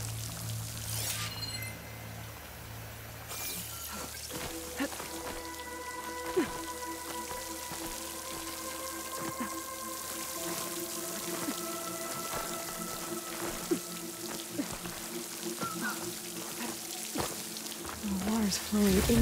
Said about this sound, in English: Where is this water coming from?